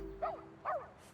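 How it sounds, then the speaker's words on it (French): Two short barks from Major, a dog in a French animated series, spaced about half a second apart at moderate distance over a low steady hum. "On dirait bien que c'est l'aboiement de... Major!"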